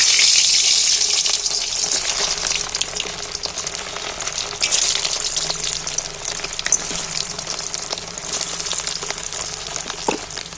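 Whole potatoes fry in very hot oil in a wok, giving a loud, steady, hissing sizzle that stays dense and continuous throughout, with only faint scattered pops and no voices.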